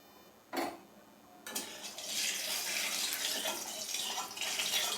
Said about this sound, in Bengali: আমি কড়াই বসিয়ে দিয়েছি দিয়ে দেবো সর্ষের তেল